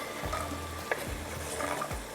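Vegetables hit a small amount of hot oil and sizzle close by, with several low thuds and a sharp clink of a utensil against the pan as they are stirred.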